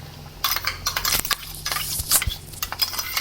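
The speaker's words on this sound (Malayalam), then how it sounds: "ഇട്ട് കൊടുത്തിട്ട് നല്ലോണം ഒന്ന് ഇളക്കി, അത് നല്ല തിളച്ച് വരുന്നവരെ ഒന്ന് ഇളക്കി കൊടുക്കാം" Spoon stirring ground coconut paste into simmering mango pulissery curry in a pot, steady close scraping and swishing strokes with light clinks against the pan, no voices.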